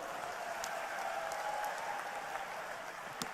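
Crowd applause at a political rally, a continuous wash of clapping that sounds distant and faint, steady for a few seconds.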